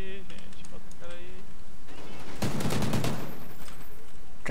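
Gunfire from an assault rifle in the shooter game Call of Duty Ghosts: a loud burst of rapid shots cuts in after a stretch of game sounds and music, as a player talks over the action.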